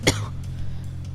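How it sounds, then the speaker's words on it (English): A single short, close cough bursts out at the start, followed by a low steady hum with faint clicks. "Sorry for coughing, by the way."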